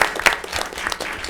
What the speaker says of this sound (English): and she deserves a round of applause.